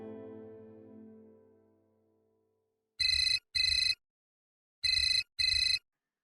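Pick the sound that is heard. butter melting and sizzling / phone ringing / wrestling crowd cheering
phone ringing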